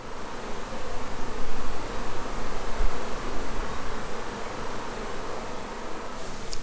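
Honey bees returning to the hive buzz continuously, a dense, steady drone that rises and falls slightly, with no talking.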